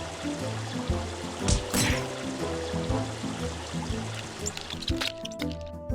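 Cold shower water runs steadily in the Kick The Buddy game, a continuous trickling pour over a low musical background, with a brief louder splash partway through.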